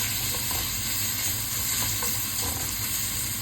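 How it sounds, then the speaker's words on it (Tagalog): Ginger sizzling steadily in a hot pan as the first step of cooking Bicol Express, a close, even frying hiss with faint stirring scrapes and no talk. "Igisa muna natin yung ating luya"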